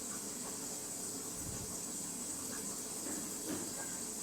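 Sankar fish curry cooking with garam masala added and stirred, giving a steady, loud broadband sizzle and hiss throughout, with faint scraping stirs underneath and no talking.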